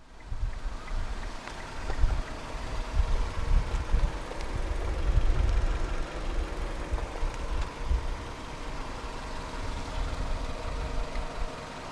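A low, steady engine rumble of a 2017 Kia Rio sedan idles continuously with slight fluctuations, close by and without any talking.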